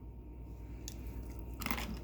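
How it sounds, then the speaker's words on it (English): A few faint crunchy bites of crisp fried Ghana party chips, with quiet chewing in a hushed room. "Oh, you can hear the crunchiness."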